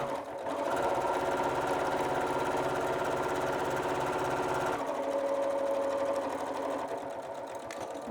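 Sewing machine stitching fabric runs in a steady, fast mechanical whir for several seconds, shifting to a lighter, higher hum partway through as the back tack finishes the seam, close and loud with no talking.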